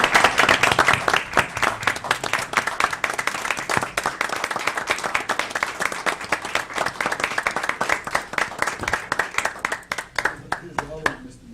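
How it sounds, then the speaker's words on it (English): Audience at a city work session giving a round of applause, sustained crowd clapping for about ten seconds that thins out and fades at the end, with some talk mixed in. "let's give them a round of applause"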